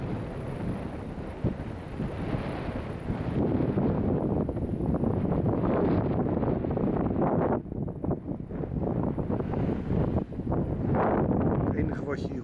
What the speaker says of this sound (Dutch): Het enige wat je hier hoort is wind.